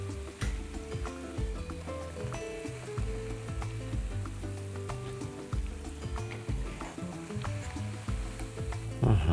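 Chicken breast fries in a hot pan, giving off a steady, close sizzle dotted with small ticking pops throughout, with no talking.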